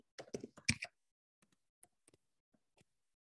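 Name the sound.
typing on a computer keyboard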